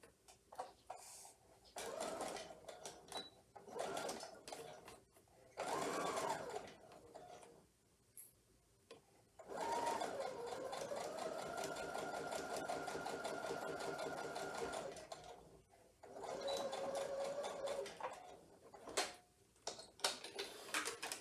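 A sewing machine stitches a herringbone quilt block in several bursts of varying length, its close mechanical whir starting and stopping between quiet handling gaps, one long steady run in the middle.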